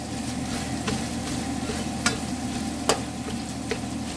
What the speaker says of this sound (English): not air fryer, but deep fryer going with the fries in it